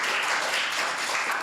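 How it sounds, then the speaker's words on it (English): An audience at a conference talk on fat acceptance applauds, a dense, even wash of many hands clapping that holds steady for a moment, with no voices over it. "You can clap."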